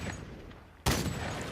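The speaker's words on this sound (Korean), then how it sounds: "총소리." A sudden loud burst of gunfire crashes in after a stretch of quiet room tone and keeps rattling to the end.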